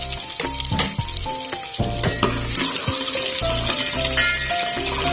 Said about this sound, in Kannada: ಈರುಳ್ಳಿ ಸ್ವಲ್ಪ ಫ್ರೈ ಆಗಬೇಕು ಅಲ್ಲಿವರೆಗೆ ಫ್ರೈ ಮಾಡ್ಕೊಳ್ಳಿ